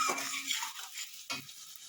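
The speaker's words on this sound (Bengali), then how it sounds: "আমি এটা জিরের ফোড়ন দিলাম" Cumin seeds sizzle in hot oil for tempering, producing a short, close crackling hiss with a couple of sharper bursts as they hit the pan.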